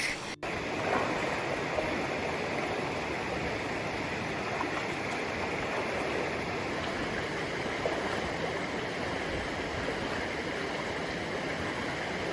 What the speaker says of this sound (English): Doing a water crossing in the dark.